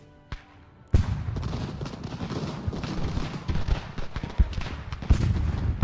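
Volleys of musket and artillery fire crack and boom in Ultimate General: Revolution, a sharp opening blast followed by dense, continuous battle rumble and scattered nearer shots.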